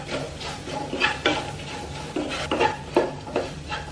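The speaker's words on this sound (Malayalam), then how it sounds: "ഈ പൊടികൾ മൂത്ത് വരുന്നതിന്റെ ഒപ്പം തന്നെ നമുക്ക് ഇതിലേക്ക് സവോള ചേർക്കണം." One large onion is stirred and fried with roasted spice powders in a pan, with repeated scraping strokes of a spoon against the pan in an uneven rhythm over a soft, steady sizzle, close by.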